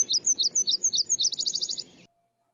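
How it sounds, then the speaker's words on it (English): A song sparrow sings one song: a few clear opening notes, then a quicker buzzy trill that ends abruptly, bright and fairly close against a quiet background. "So the song sparrow sound kind of has three fairly distinct segments to the sound."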